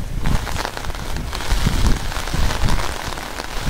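Steady rain from Cyclone Remal pours down outdoors, a dense, close hiss of drops hitting surfaces with no pauses.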